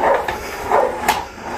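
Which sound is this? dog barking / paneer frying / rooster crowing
dog barking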